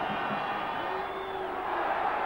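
A big stadium crowd at a rugby league match between Warrington and Australia at Wilderspool roars continuously, a dense sustained wash of voices with scattered shouts rising above it.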